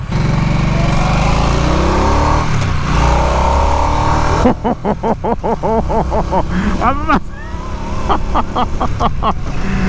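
A 2022 Harley-Davidson Nightster motorcycle engine runs loud and close on a test ride, revving in bursts that rise and fall in quick succession under engine braking, with wind rushing over it.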